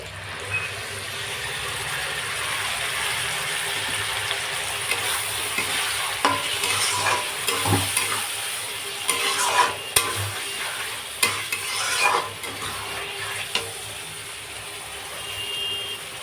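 Fish sizzles loudly in a pan with onion greens while being stirred, a constant hiss of frying with intermittent scraping and knocking of the spoon.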